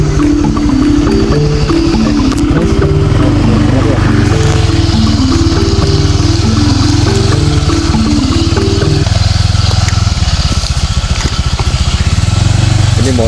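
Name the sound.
motorcycle engine running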